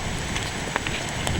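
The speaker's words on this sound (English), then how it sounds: "It's been raining" Steady rain patters on a muddy forest trail on a cloudy morning, a dense, close hiss with scattered individual drops ticking through it and no talking.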